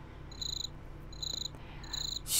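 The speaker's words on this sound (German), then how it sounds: "Diese Grillen, ne? Die machen auch irgendwie ein vogelig." Crickets chirping in Minecraft woods ambience, three evenly spaced trilling bursts over a quiet steady background hum.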